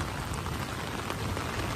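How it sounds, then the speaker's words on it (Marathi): Heavy monsoon rain falling during a flood night, a thick unbroken roar of rain on surfaces, loud and close throughout with no talking. "त्यांना देखील माहिती आहे पाऊस खूप आहे"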